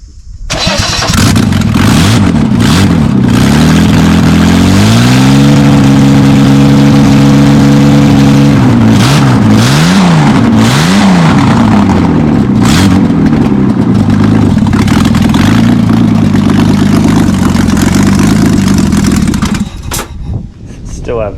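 A VL Commodore engine cranks and catches, then runs loud and close, swelling through several revs before settling into an uneven, rough idle that cuts off at the end.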